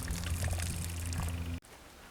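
Water pours steadily from the drain valve of an Airotec Turbo 800L tractor-trailed sprayer tank, a loud close gush that cuts off abruptly near the end, leaving quieter background.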